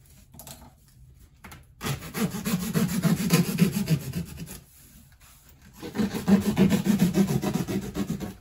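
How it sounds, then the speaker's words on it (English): A cardboard box being cut down makes two bursts of scraping, rasping strokes, each lasting several seconds, separated by a brief quiet gap, close and fairly loud. "I'll cut the box down."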